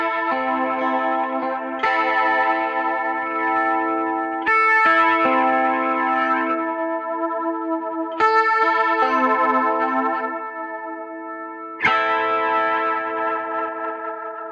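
Electric guitar run through a pedal mixing half flanger and half rotary Leslie modulation, chords ringing with sweeping, swirling shimmer, restruck every few seconds and left to sustain alone.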